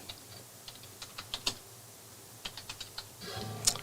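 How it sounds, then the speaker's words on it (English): Fast typing on a computer keyboard: a quick, uneven patter of sharp, close key clicks with short pauses, ending in a denser flurry of taps. "This is what happens when you type quickly."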